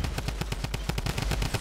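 Rapid automatic gunfire from the Fortnite video game during a tournament match, a fast, even burst of about a dozen sharp shots in quick succession, loud and continuous with no talk over it.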